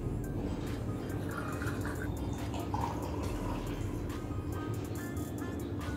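A protein shake pours in a steady, continuous liquid stream, close and fairly quiet, with a faint background hum and no talking.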